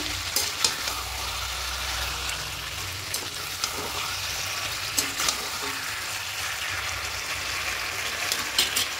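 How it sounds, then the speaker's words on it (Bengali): Chicken pieces stir-fried with whisked sour yogurt in a pan, a steady close sizzle under repeated scraping and tapping of a spatula, no voices. "এবার টক দইটা দিয়ে আবার খুব ভালো করে 2-3 মিনিট কষিয়ে নেব"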